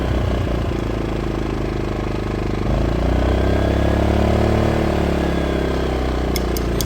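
A Konner&Sohnen dual fuel inverter generator runs with a steady, loud mechanical drone and clatter close to the microphone, the engine note stepping up and settling partway through.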